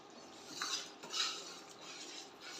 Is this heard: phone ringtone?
no